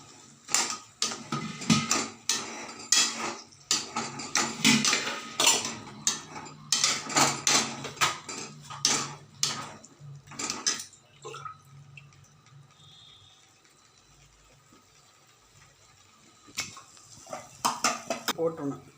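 Spoon stirring drumstick masala in a pan, giving a run of close, clattering scrapes and clinks against metal that fade to near quiet partway through before a few more knocks return.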